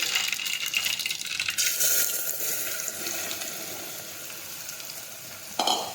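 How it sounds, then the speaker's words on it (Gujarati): Mustard seeds and asafoetida hit hot oil in a pan, giving a loud, continuous crackling sizzle that stays dense throughout, with a brief clatter near the end. "હવે આપણે તેમાં રાઈ નાખીશું"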